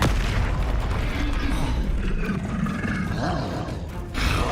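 A Confringo fire spell blasting in Hogwarts Legacy, a loud continuous roaring whoosh of flame that holds steady for several seconds and dips slightly before flaring again at the end.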